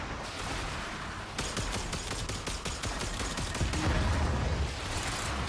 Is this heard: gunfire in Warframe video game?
yes